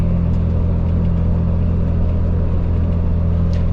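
An Isuzu FTR240 truck hauling a heavy container up a mountain grade, heard from the cab as a loud, steady low engine drone that holds constant throughout with no letup.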